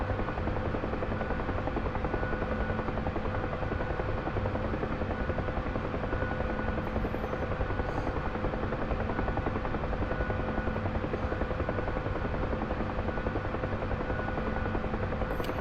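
A UH-1H Huey helicopter flying in the DCS video game, with a constant loud rotor drone and engine hum that holds steady and unbroken throughout.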